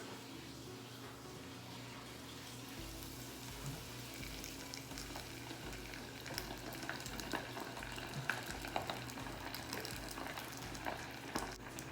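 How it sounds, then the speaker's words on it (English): Sushi balls coated in panko crumbs fry in a deep fryer, a steady bubbling sizzle that builds slightly with crackling pops, fairly quiet and uninterrupted. "We'll pick it up, put it in our deep fryer."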